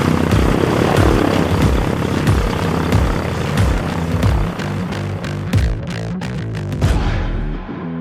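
Small propeller airplane heard close and loud, a pulsing, chopping engine and prop roar that holds steady and then thins out toward the end.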